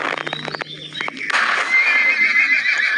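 A cartoon horse neighs loudly in a long, shrill whinny after a few quick clip-clop hoof sounds, close and alone.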